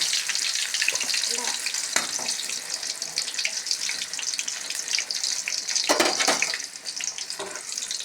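Chilli bajji frying in a pan of boiling oil, with a bright, continuous sizzle and crackle punctuated by a few louder bursts as pieces are moved.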